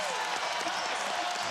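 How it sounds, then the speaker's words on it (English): A basketball arena crowd buzzes and applauds in a dense, steady roar with scattered claps, while a commentator talks over it. "Crowd still buzzing over the Bogut 3."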